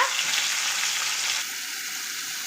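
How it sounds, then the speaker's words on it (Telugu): Tomato pieces frying in hot oil give a steady, bright sizzle, loud and close, easing slightly in intensity partway through with no voices. "అదే ఆయిల్లో కండి మనం కట్ చేసి పెట్టుకున్న ఈ టమోటా ముక్కల్ని ఇలా చక్కగా ఫ్రై చేసేసుకోవాలి"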